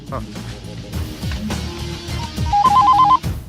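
Near the end, a telephone rings in short, evenly repeated trilling bursts during a call, over background music and voices.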